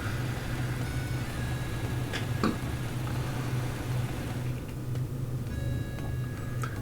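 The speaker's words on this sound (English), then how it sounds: "I just watch over the thing as it idles for a while, but the engine doesn't seem inclined to sputter off again." A motorcycle engine idles in a visual novel game, holding a steady low rumble with no change in pace, while faint small clicks tick over the top. No one speaks.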